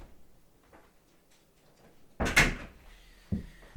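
A door opened to let out a dog that had been scratching at it; after near silence, a sharp clunk of the latch and handle rattles, followed a second later by a softer thud.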